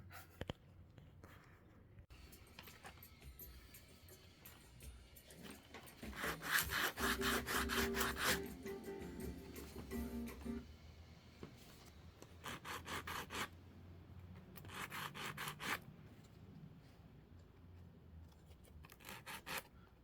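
Hard plastic leatherwork templates for a watch cuff are shaped by hand with a file or sanding tool, producing quiet, close scraping and rasping strokes that come in short rhythmic bursts with pauses between them.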